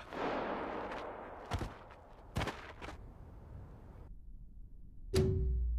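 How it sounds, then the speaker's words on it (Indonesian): Gunshots ring out in a scene from the film Squid Game, several sharp cracks spaced a second or so apart, each with a short echo, ending in a louder blast. "Tiba-tiba terdengar suara tembakan yang membuat si partisipan jatuh"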